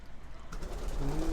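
Homing pigeons coo softly nearby, a short low murmuring call that rises in the second half over faint background noise.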